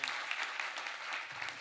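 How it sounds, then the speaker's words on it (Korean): Brief round of congregation applause during a Sunday afternoon church service, an even wash of many hands clapping at moderate level, heard alone for under two seconds. "박수 한번 주세요."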